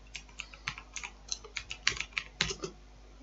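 Quiet, irregular clicking of keys on a computer keyboard as code is typed, around a dozen distinct keystrokes in quick bursts, close up with no talking.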